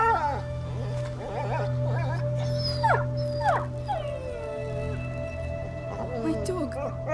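Dog whimpering and yelping in the video game A Plague Tale: Innocence, several rising, wavering cries over a steady low hum, with talk and game ambience around it.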